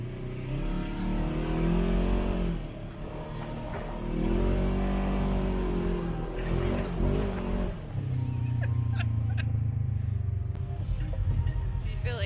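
An off-road vehicle drives over rough terrain near Moab, Utah. The engine drones and revs up and down steadily and loudly close by, with no voices.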